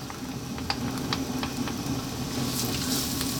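Chopped onion and garlic sizzle in olive oil over high heat, a steady close crackle with occasional small pops, alone with no talk.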